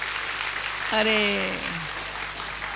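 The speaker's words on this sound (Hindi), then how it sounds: "ताली बजा" An audience at a Diwali morning celebration claps continuously, a dense steady patter of many hands, briefly overlaid by a man's short spoken exclamation.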